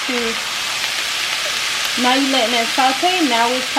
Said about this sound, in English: You're going to let that saute for 2 minutes.